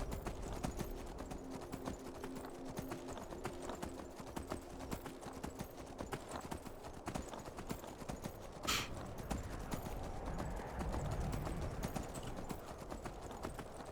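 Rhythmic clip-clop of horse hooves trotting steadily in Skyrim, with a brief whinny partway through and a faint low rumble underneath.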